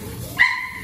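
A white Pit Monster dog gives a single short bark near the middle, fairly close and moderately loud, over low background noise.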